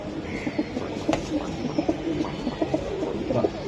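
Pigeons cooing in a loft of racing and tumbler pigeons, soft repeated low coos at close range over a busy background murmur, with a brief voice in the mix.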